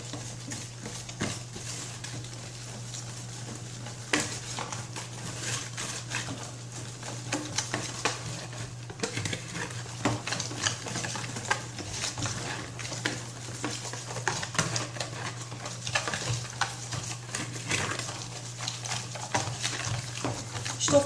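Spoon stirring cookie dough made of margarine, egg and powdered sweetener in a bowl, a soft continuous scraping and tapping over a low steady hum, with occasional clinks.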